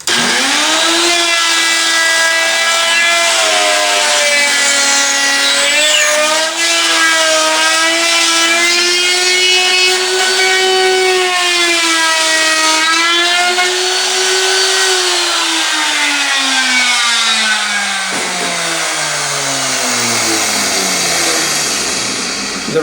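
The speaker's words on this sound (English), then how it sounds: "The router follows whatever contour is below it." A router with a roller guide trims the excess overhang from the wooden edges of a Smartwood harp, giving a loud, continuous high whine that rises and dips in pitch as it follows the contour, then winds down near the end.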